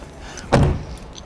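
The door of a Ferrari 250 GTE is slammed shut once, close by, giving a single solid thud with a short metallic rattle that fades quickly.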